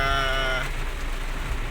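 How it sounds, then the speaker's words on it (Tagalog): Heavy rain pours steadily around a car driving from San Mateo, Rizal toward Quezon City, a dense continuous wash of noise that is loud and close, with a brief tonal sound at the start. "medyo malakas talagang ulan kanina pa to"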